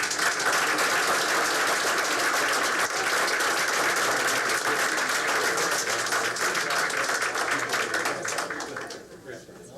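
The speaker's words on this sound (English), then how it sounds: "another round of applause." Sustained applause from a crowd fills a school board meeting room, loud and dense, then thins and fades out toward the end.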